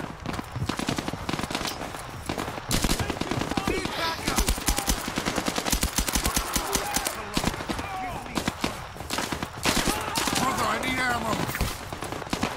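Rapid automatic gunfire fills the VR shooter Zero Caliber VR, with dense, continuous bursts of loud shots and near-constant rattling throughout, and voices occasionally underneath.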